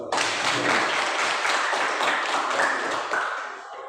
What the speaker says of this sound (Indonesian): Oke, berikan aplaus.